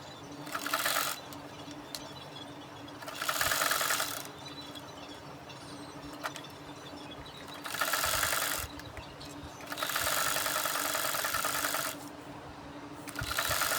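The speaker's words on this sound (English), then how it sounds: "Is to sew both sides of it by taking in just 1 inch at both sides." A sewing machine stitching both sides of a baby overhead hijab runs in four separate bursts of rapid, whirring stitching, with quiet pauses between them and no talking.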